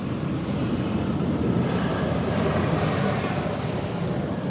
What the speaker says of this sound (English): American Eagle just landed.